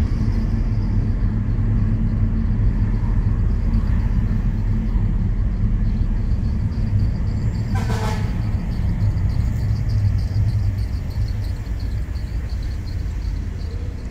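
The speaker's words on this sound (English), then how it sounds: "And that sound is not from my car, that's from the van next to me." Steady low engine rumble from a van just behind a car in traffic in the Bronx, New York, heard from inside the car; a continuous, fairly loud drone with a brief higher whine near the middle, no talk.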